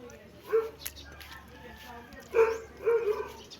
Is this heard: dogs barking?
yes